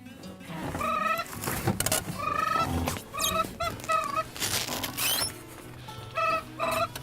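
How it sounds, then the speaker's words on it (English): Three brant geese call in short, repeated honking bursts, fairly close, with breaks between the calls and a steady outdoor background underneath. "here comes 3 Brant that won't stay out of the decoys"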